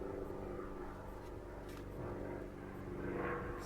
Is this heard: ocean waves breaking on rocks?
no